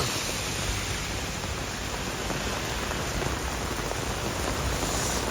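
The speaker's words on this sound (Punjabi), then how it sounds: "ਬਹੁਤ ਤੇਜ਼ ਮੀਂਹ ਵਹਿ ਰਿਹਾ" Heavy rain pours down in a dense, unbroken hiss, steady and loud throughout, with no voices.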